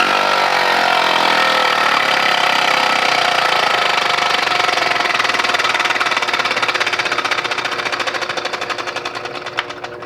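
A homemade four-stroke engine running on compressed air buzzes loudly and steadily up close, a fast mechanical chatter that slows and fades over the last few seconds.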